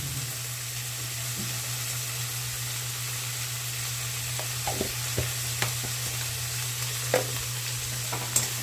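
Onions with turmeric fry in a pan with a steady close sizzle and a constant hum, while a spoon scrapes and taps the pan in scattered strokes through the second half.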